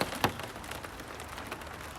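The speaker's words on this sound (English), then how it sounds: "is that sleet? I suppose you'd call it sleet." Sleet or light icy rain falling outdoors, a soft continuous patter of fine drops with one brief sharper tap near the start, faint and steady with no voices.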